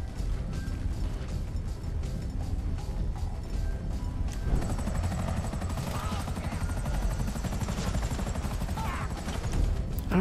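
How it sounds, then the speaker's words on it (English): A helicopter in Grand Theft Auto V throbs with a steady rhythmic rotor chop during a shootout, joined by occasional gunshots. Voices talk over the action throughout. "We gotta take out that chopper!"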